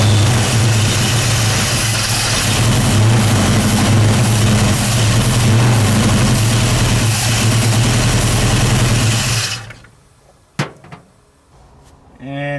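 The engine of a 1968 Mercury Cougar drag car, a barn find, runs loud and steady at idle for about nine seconds, then cuts off, leaving a few faint clicks and clatters.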